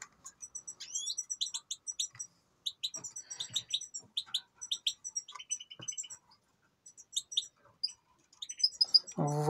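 Tiny goldfinch and canary chicks being hand-fed with a small feeding tube, giving rapid high, thin begging chirps in quick clusters with brief pauses, close and fairly clear against a quiet background.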